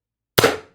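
One sharp, close shot from a Pistelle X-68 air pistol firing an 8.5 gram pellet: a sudden crack that decays quickly into silence, with no talking.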